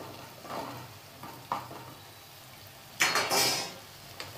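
Washed drumsticks dropped into a frying pan with ginger paste, giving a brief scrape and stir early on, then a louder burst of sizzling and clattering that fades back to a quiet simmer.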